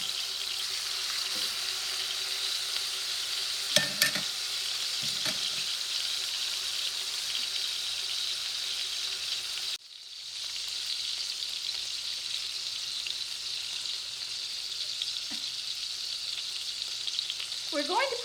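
Salmon sears in a hot pan with a steady, broad sizzle throughout, broken by a few brief utensil scrapes and a short dip in the hiss partway through.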